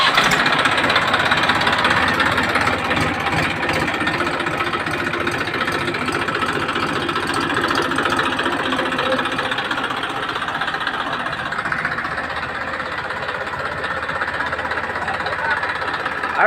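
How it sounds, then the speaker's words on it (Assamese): A tractor engine running loud and close while hauling harvested paddy, a steady rough mechanical rumble with rapid knocking that continues throughout, with faint voices underneath. "এয়া ট্ৰেক্টৰ দি গাড়ীয়ে ধান পৰিব আৰু।"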